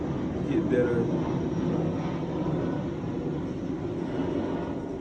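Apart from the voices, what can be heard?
small plane flying overhead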